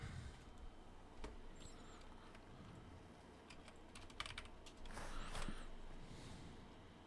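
Fast typing on a computer keyboard, a steady quiet patter of key clicks with a few louder strokes, running alone at close range for several seconds.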